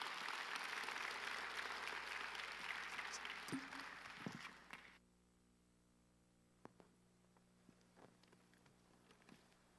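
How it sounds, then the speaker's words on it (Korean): Applause from a church congregation at a Sunday service greets the pastor coming up, steady and full for about five seconds before stopping abruptly, leaving a quiet room with a few faint knocks and shuffles. "목사님 올라오실 때 우리 귀한 목사님 보내주신 하나님께 영광의 박수 올리시겠습니다"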